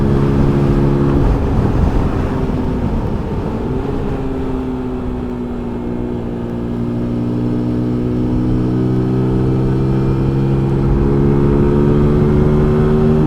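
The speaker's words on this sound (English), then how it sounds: "The sound of the engine, of the exhaust is really, I really do like this sound for 125." A Zontes U1-125 trail motorcycle's 125 cc engine and exhaust while riding, a loud steady drone with engine pitch dipping and then climbing gradually as the rider shifts and accelerates, with wind noise underneath.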